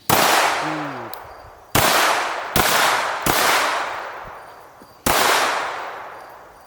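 Pistol shots are fired at a target on a shooting range, about five sharp, loud reports spaced irregularly. Each crack is followed by a long, fading echo.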